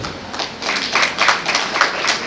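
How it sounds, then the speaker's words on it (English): An audience at a university convocation ceremony claps for the university president, giving brisk, steady applause at moderate distance with a few louder bursts. "If you fail to clap well for him, he won't give us more. Please clap very well."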